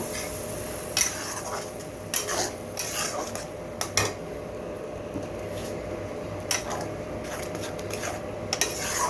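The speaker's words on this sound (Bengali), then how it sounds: "টমেটোর কাঁচা গন্ধ না যাওয়া অবধি আমি এটাকে ভেজে নেব।" Tomato masala is stirred and fried in a pan for an aloo fulkopi curry, with steady sizzling and repeated scraping and clinking of a spoon against the pan, close and continuous with no talk.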